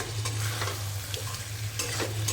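Chicken with garlic sizzles and fries in a pan while being stirred, giving a steady close hiss broken by scraping strokes of the spoon.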